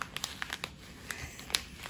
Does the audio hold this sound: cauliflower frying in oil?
no